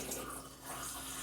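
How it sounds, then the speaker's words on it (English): Filtered water from a Brita pitcher pours steadily into a soup pot of chicken and vegetables, a continuous close splashing stream that dips briefly mid-pour. "I do like to add the water after everything has been added in first"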